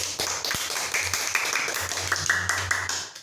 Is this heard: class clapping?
yes